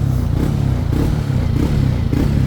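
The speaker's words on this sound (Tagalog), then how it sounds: "Magpainit muna tayo ng makina." Motorcycle engine warming up on a center stand, a loud, close, steady idle with a rhythmic low throb and slight pulsing swells in revs.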